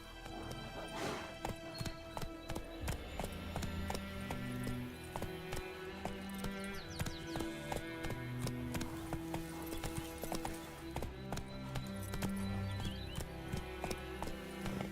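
Horse hooves clip-clop at a steady gallop in The Witcher 3, with a brief neigh early on, over continuous game music and ambience.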